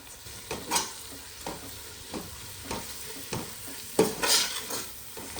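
Curry leaves, coriander and mint fry in a pan for beef biryani, a steady sizzle broken by repeated scraping stirs of a spoon against the pan, close and fairly loud with no talking.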